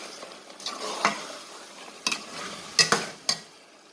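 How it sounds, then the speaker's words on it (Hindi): Mutton karahi stirred and fried in ghee, with a soft continuous sizzle under scattered spoon scrapes and clinks against the pan, a few sharper knocks near the end. "घी डालने से जो है इसका जायका बहुत अच्छा हो जाता है। और फिर साथ साथ मैं इसको भूनती जा रही हूँ।"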